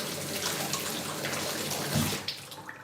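Water runs steadily from a tap while something is rinsed, a loud continuous splashing stream that breaks into a few separate splashes and drips at the end.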